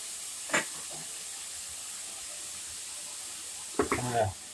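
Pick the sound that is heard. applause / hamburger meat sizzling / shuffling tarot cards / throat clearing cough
hamburger meat sizzling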